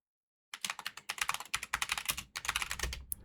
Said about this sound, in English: and let's type in